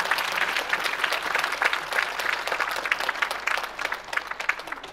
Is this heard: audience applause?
yes